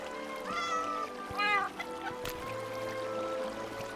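A tamed cat in Minecraft gives two short rising meows near the start, with faint game sounds and a soft tap or click later.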